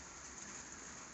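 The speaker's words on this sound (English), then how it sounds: "it's still raining again" Rain falls steadily on a farm, a faint continuous hiss with no distinct drops or voices.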